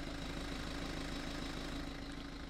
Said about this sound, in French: C'est bien un moteur diesel qu'on a sous le capot de cette version puisqu'il s'agit de la version 420D.